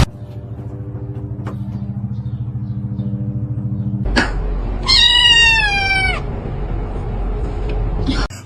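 A black kitten gives one clear, loud, drawn-out meow partway through, close up, over a low engine-like rumble and hum.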